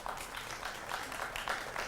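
Faint, distant applause from a studio audience at a televised political debate show, a steady patter of many hands clapping that holds throughout.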